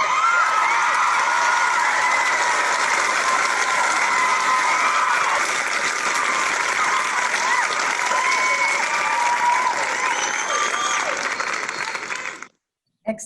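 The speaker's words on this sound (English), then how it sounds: "Let's give them a round of applause." At an awards ceremony, an audience gives sustained applause for Alpha Kappa Alpha Sorority's Eta Nu Omega chapter as it is honored, with steady clapping, a few cheers and whoops, ending abruptly in a brief silence.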